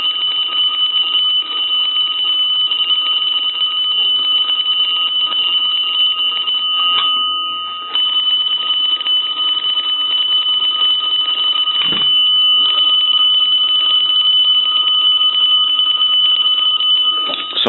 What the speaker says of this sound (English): We have a bell here, and we're going to go ahead and crank the unit.